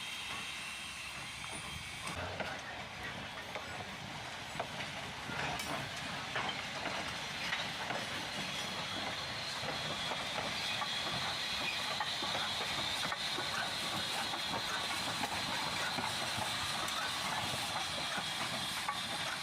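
Jetto Coal 85, a Vulcan Ironworks 0-4-0 saddle tank steam locomotive, pushes its train along; a faint, distant steady steam hiss with soft rail rumble and light chuffing texture, no voices.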